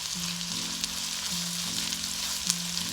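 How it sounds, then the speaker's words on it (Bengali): Fried rice with spring onion stir-fried in a pan over high heat, giving a steady close sizzle with a low tonal hum that rises and falls in repeating steps. "এটা একটু সুন্দর করে ভেজে নিচ্ছি"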